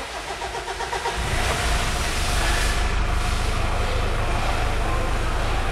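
A Mitsubishi Pajero Sport with a 4D56 diesel engine being cranked, a rhythmic starter churn that catches after about a second into a loud, steady, rough idle close by.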